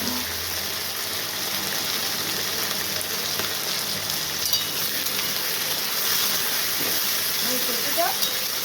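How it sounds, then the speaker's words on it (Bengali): Toti, a dried fish, fries in a pan with potatoes, making a continuous moderate sizzle with occasional stirring scrapes and faint voices in the background. "আমি টটিটা দিয়ে ভাজা ভাজা করছি"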